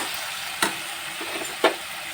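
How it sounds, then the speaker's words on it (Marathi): Vegetables frying in a pan with garam masala and ginger-garlic paste, a steady sizzle broken by two sharp scrapes of a spoon stirring against the pan. "आला लसूणची पेस्ट आता घालून आपण चांगले ढवळून घेऊया."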